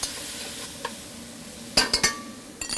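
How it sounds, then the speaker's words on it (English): Garlic, onions and ginger stirred in a hot pan over a faint background sizzle, with a few sharp utensil clinks and scrapes against the pan near the end. "Garlic, onions, ginger. Pan. Stir it up nice."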